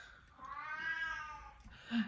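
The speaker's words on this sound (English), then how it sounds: "Sorry, my cat is in the background making noise." An indoor house cat lets out one drawn-out meow, moderately close, followed by a brief fainter chirp at the end.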